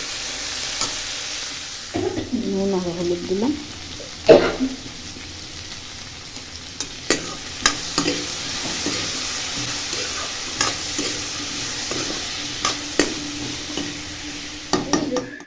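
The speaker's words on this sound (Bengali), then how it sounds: "একটু ভাজা ভাজা হয়ে আসুক, তারপরে শাকটা দেবো।" Garlic and green chili sizzle in a pan with scraping stirs and light clinks of a utensil, a steady frying hiss underneath, while a voice speaks briefly near the start.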